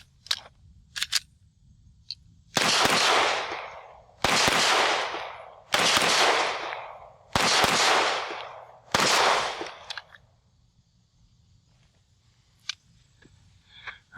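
Five loud, evenly spaced pistol shots from a brand-new Canik Mete SFT on its first outing, each sharp crack trailing into echo, preceded and followed by quieter handling clicks.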